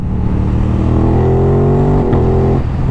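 An Aprilia RS 660 motorcycle, A2 version fitted with a full exhaust system, revs loudly and close up, its engine note rising in a steady climb before a brief dip and recovery, with no voices over it.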